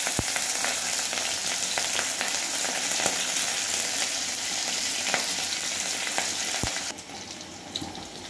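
Oil sizzles steadily in a pan with dried red chilies, nigella seeds and green chilies, a dense continuous crackle with a few sharp pops and stirring scrapes, dropping slightly quieter near the end; no talking.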